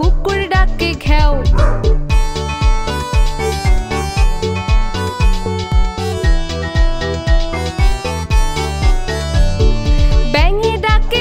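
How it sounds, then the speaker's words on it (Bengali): A dog barks within a busy, bouncy Bengali children's animal-sounds rhyme, the yaps set against steady music and singing. "কুকুর ডাকে খেও।"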